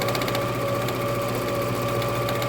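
A sewing machine runs steadily, putting one continuous stitch around bag straps for a messenger bag, its rapid needle rhythm loud, close and unbroken.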